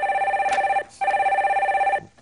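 Telephone ringing as a call is put through on a Korean stock-market call-in broadcast: two steady electronic ring bursts with a short gap between them, loud and clear with no talk over them.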